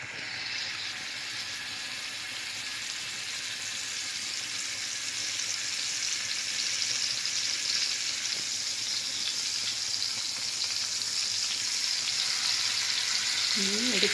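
Mutton keema sticks sizzle steadily in an oil-filled pan, a dense continuous frying hiss that grows slightly louder over time, heard close and without talk.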